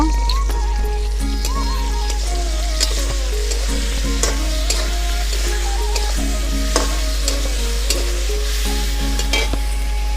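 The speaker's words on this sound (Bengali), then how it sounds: "আমি প্রথমে লঙ্কা বাটাটা দিয়ে দেবো দিয়ে নেড়ে চেড়ে নেব" Chili paste for shorshe potol, a Bengali mustard and pointed gourd dish, stirs and fries in a pan, with a steady close sizzle under repeated scraping spoon strokes and no voices.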